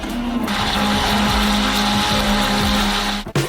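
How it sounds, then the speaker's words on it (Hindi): A blender beating strawberries with sugar whirs steadily at high speed with a loud, constant motor drone, cutting off abruptly near the end. "हम इसे एक ब्लेंडर के साथ अच्छी तरह से बीट करेंगे।"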